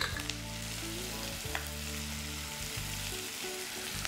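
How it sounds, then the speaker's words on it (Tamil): Vegetables sautéing in butter for veg makhanwala, a steady close sizzle with stirring and scraping over a low background hum. "காயை நல்லா வதக்கிட்டு எல்லாம் இந்த பட்டர்லேயே வந்துட்டு காய் நல்லா வதங்கணும்"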